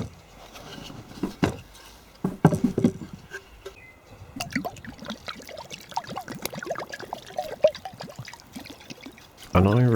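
Water poured onto a warm mould for casting Roman disk brooches gives uneven dribbling and splashing bursts, with a louder splash near the end, under intermittent talking.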